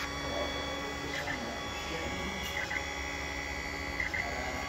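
An Ender 5 Plus 3D printer runs with a 0.8mm nozzle, its stepper motors buzzing and whirring in a steady low drone with small periodic chirps as the head moves, faint and close, while people talk nearby.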